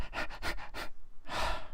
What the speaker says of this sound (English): You're getting heavy breathing in your ear.